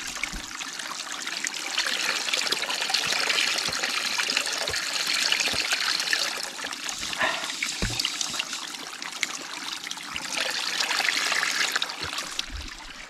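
Running water pours and splashes steadily nearby, a continuous bright rushing with occasional small knocks and drips, and no talking.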